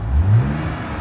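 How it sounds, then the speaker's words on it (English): A 2026 Jeep Grand Wagoneer's 3-liter twin-turbo Hurricane inline six revs briefly, a short low engine swell rising and settling into a steady idle hum. "This is the very well-known, actually, 3-liter twin turbocharged inline six, aka the Hurricane inline six, in the standard output format."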